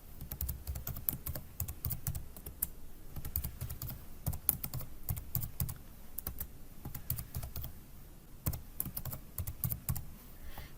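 ArcGIS credentials are typed on a computer keyboard in quick, irregular bursts of close key clicks, with brief pauses between words and no voices.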